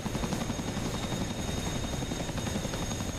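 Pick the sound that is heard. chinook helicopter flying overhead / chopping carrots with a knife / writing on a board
chinook helicopter flying overhead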